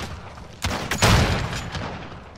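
Gunfire in Call of Duty Modern Warfare, a few quick sharp shots cracking out together, followed by a short echoing tail over quiet game ambience.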